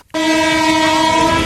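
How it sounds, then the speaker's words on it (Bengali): A freight train's horn blasts loud and steady at a railway level crossing where a crowd waits, a sustained multi-tone blare beginning abruptly after a brief silence and holding throughout. "তো দেখুন ট্রেনটা আসছে, আপনাদেরকে দেখাচ্ছি আমি।"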